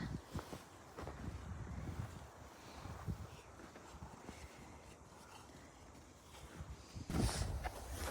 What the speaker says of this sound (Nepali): तर चिसो हावा